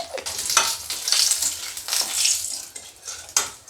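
Bay leaf, dried red chilli and panch phoron spluttering in hot oil, a crackling sizzle with bursts of popping and stirring clinks, moderately close with no talk.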